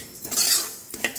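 A utensil scrapes and clinks against a pan while about ten garlic cloves are stirred after frying until reddish: a short metallic swish followed by a couple of sharper taps, close and clear, with no voices.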